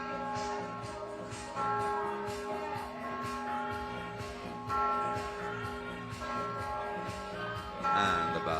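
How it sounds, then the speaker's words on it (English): Bells ring out at a FIBA 3x3 U21 basketball game, sustained tonal chimes layered over steady arena crowd noise, swelling in a few louder bursts. "the bells are ringing"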